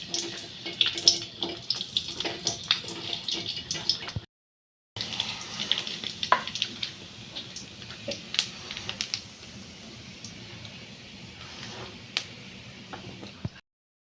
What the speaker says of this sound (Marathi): आता लाल कांदे भाजू देऊ